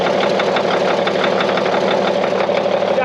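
A John Deere model 40 crawler engine idles steadily just after starting, a loud, close, even knocking chug that holds without change.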